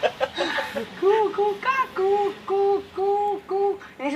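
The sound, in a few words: person imitating a chicken sound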